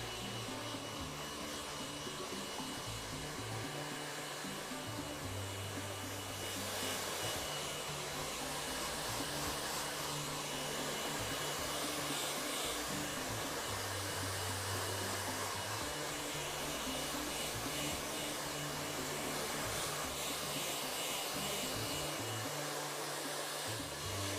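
A hair dryer roars steadily and close by, its airflow wavering slightly as it's moved around, with no voices over it.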